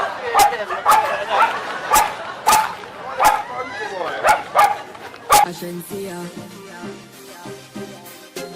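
A dog in a Jamaican yard barks repeatedly in short, loud, evenly spaced yaps, with voices talking around it and music coming in toward the end.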